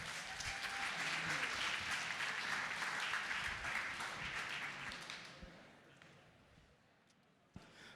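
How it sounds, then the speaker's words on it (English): At a hackathon opening ceremony, an audience applauds for about five seconds, dense and sustained, then fades to a quiet room with a single sharp knock. "Please give Josh a big round of applause."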